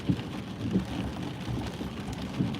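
Steady rain comes down in Georgia near the Smokies as heavy clouds set in, a soft, continuous patter with a few louder drops and no talk over it.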